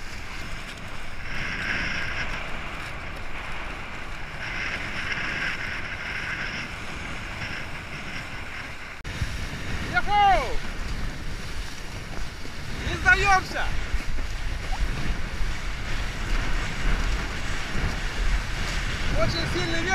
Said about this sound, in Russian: Очень сильный ветер из-под мыса